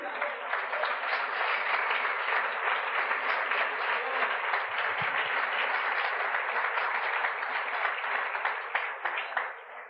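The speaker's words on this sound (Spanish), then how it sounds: "Démosle un aplauso al Señor." A church congregation applauds steadily and loudly for the whole stretch, a dense, even wash of many hands clapping with no voices standing out.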